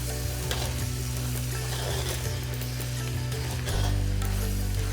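Whole coriander seeds stirred into sizzling onion masala for a Rajasthani malai pyaz sabzi, a continuous close crackling sizzle with scraping stir strokes, growing slightly fuller near the end.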